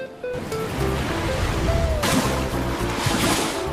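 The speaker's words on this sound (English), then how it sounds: "The wave is very big." Big ocean waves crash and roll near swimmers, a loud surging wash of surf that builds and swells again partway through, with wind noise but no clear talk.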